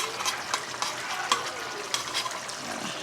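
Salmon added to a pot of curry, producing a close sizzling and bubbling hiss broken by light stirring and scraping taps at an uneven pace.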